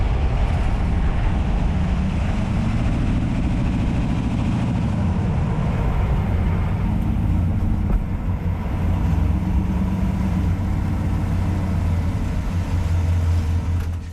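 A Chevrolet Silverado truck on a test drive after a sway bar link swap, with steady, loud engine and road rumble filling the cabin continuously throughout, a low drone with no talking.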